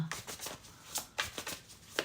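Tarot cards being shuffled by hand in a few quick riffling bursts, close and fairly quiet, with soft gaps between the rustles.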